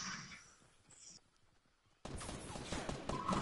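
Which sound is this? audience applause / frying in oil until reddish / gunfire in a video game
gunfire in a video game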